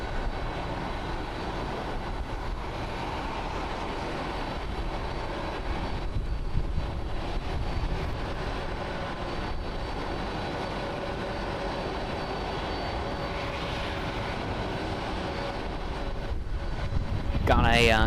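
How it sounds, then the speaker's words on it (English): An Airbus A320neo airliner at Haneda Airport, Tokyo, gives off a steady, broad engine roar for the whole stretch, with voices talking faintly over it. "On Upon Airways Flight 747 going to NTQ. It's an Airbus A320neo"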